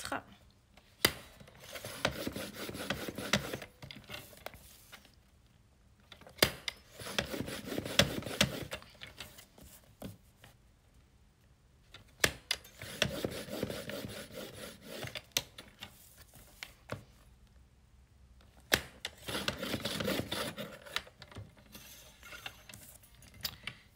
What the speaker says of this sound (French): je vais faire des plis à 2 cm